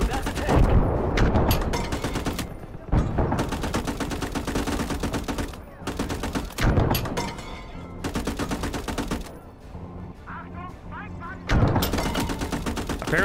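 Gunfire in a World War II hedgerow combat video game, loud rapid machine-gun bursts and single shots in clusters separated by brief lulls, with some talk mixed in.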